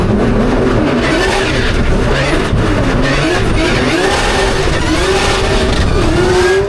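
Race car pulling away at the start of a race after a false start, its engine droning loudly and steadily with slight pitch rises under a wash of broadband road and wind noise, no talking.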